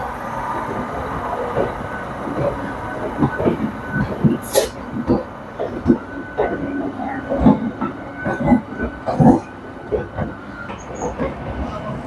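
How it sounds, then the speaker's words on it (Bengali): A special train pulls out of Howrah station's platform 8, bound for Prayagraj, with steady rumbling, rhythmic clickety-clack of wheels over rail joints and occasional squeals, loud and close throughout. "ট্রেন ছেড়ে দিল হাওড়া স্টেশন"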